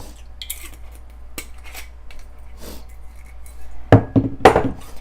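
A spoon scraping and clinking against a bowl while tiramisu cream is mixed with a splash of Marsala wine, quiet soft stirring followed by two louder clattering knocks near the end.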